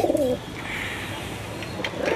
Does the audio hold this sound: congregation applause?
no